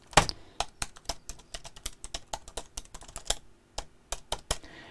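Quick typing on a computer keyboard during a sewing live stream, a fast irregular run of crisp close key clicks with short pauses between bursts and no talk.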